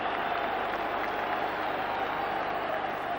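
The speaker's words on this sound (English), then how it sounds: "Like that loud cheer for the corner kick they got." Football supporters at Dundee United versus Dundee in the 1984 Scottish Premier Division raise a loud, sustained cheer for a corner kick, a dense, steady crowd roar with no break across the stretch.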